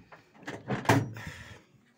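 The cab door of a 1976 Dodge truck opens with a series of clunks and a scraping creak, one sharp latch-like knock standing out in the middle, then fades.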